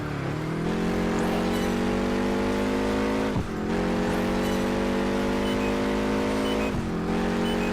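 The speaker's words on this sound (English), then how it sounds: "This car is a monstrous machine." A concept car's engine accelerating hard in Project Gotham Racing 4, loud and close, pitch climbing through gears with two sharp drops at each shift, then rising again.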